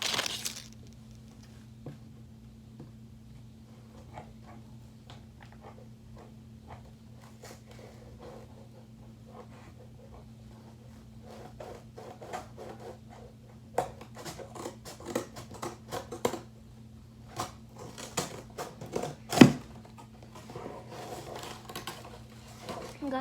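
Thick cardboard being cut with scissors, a sparse run of quiet snips and crunching cuts that grow busier and louder toward the end over a low steady hum.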